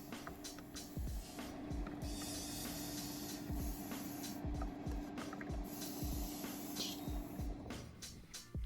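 An airbrush or spray can lays a coat of XF1 flat black on a 1:24 Tamiya RX7 FD model car chassis. A soft, steady spray hiss runs close for several seconds, with faint clicks and handling noises around it.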